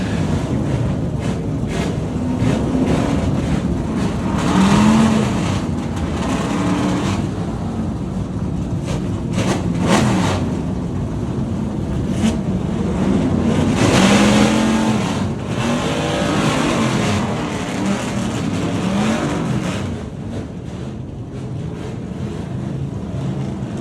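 A full field of historic race cars fires up almost at once at the Goodwood Revival on a wet day, a dense, continuous engine roar with revving swells, heard at a distance and without talk.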